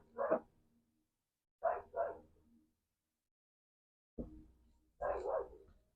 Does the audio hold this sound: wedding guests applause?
no